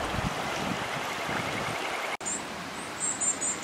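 River water at a campsite flows steadily with a broad, close rush, and a brief splash of washing the face breaks in midway, followed by a few faint high chirps in the background.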